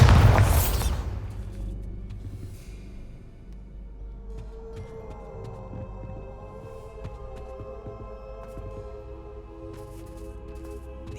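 A Bombarda blasting spell explodes in Hogwarts Legacy, one loud close burst at the very start that quickly fades into a low lingering hum and faint tonal ringing.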